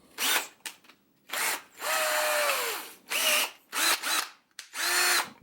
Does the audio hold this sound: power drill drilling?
yes